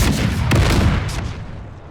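Musket volleys in the Empire 2 strategy game as troops fire on a house: dense crackling gunfire with a sharp burst near the middle, then a rumbling tail that fades.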